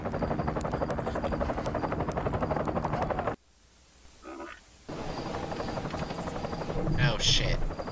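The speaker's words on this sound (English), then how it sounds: "Those look like helicopters." Helicopters fly over in a video game, a loud, rhythmic rotor thumping and whine that cuts out abruptly into near silence and then returns, swelling louder toward the end, with a voice speaking briefly in the quiet gap.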